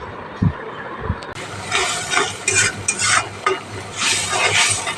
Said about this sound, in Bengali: মশলাটাকে সুন্দর করে কষিয়ে নেব